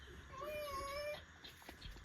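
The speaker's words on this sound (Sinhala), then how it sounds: "ඔයගලන්ට ඇහෙනවද තඩි පූසෙක් කෑ ගහනවා?" A big cat at a glamping site in the Knuckles hills of Sri Lanka lets out a single drawn-out, wavering meow lasting under a second, fairly faint against the outdoor background.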